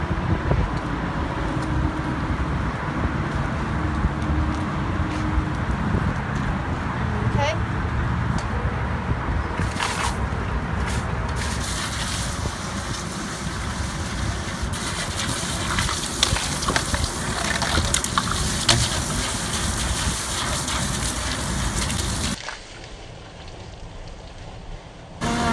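Water spraying over RV dump station equipment makes a continuous hissing, splashing rush that shifts in intensity as the stream moves, then cuts to quieter background near the end.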